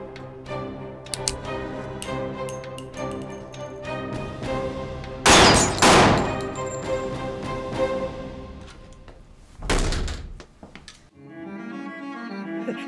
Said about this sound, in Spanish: Son disparos.